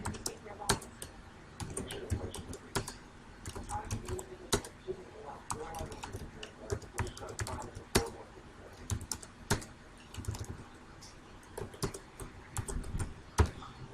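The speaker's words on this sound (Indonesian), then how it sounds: "Kita ketik lagi." Steady typing on a computer keyboard while working in Excel, with sharp irregular key clicks in quick bursts running throughout, close and clear over faint background noise.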